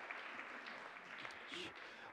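A church congregation claps together in a sustained, even burst of applause, fairly distant and diffuse, filling the room throughout.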